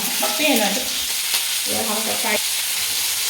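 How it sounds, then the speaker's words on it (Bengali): Sliced onion and capsicum frying in oil over a low flame, a continuous close sizzle with spoon stirring and clinks, with faint background sounds over it. "এরপরে ওই তেলে দেওয়া হলো সেই কেটে রাখা পেঁয়াজ আর ক্যাপসিকাম।"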